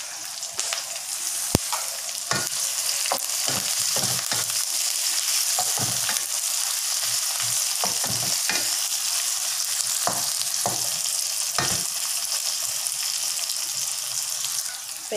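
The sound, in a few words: green chili, garlic and curry leaves frying in oil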